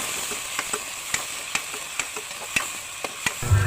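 A spoon stirs sautéed bottle gourd with chicken in a pan, giving a soft sizzle under repeated light scraping clicks roughly every half second; no one talks.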